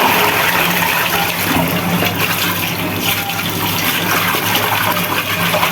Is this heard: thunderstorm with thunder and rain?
no